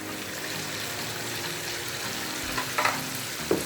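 Two beaten eggs with green chillies frying in oil in a karahi while being stirred continuously: a steady low sizzle with scraping spoon strokes near the end, close and alone.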